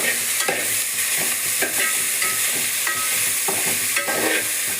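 Garlic and small shallots sizzle steadily in a hot pan while a spoon stirs them with repeated scraping strokes, close and fairly loud with no voices.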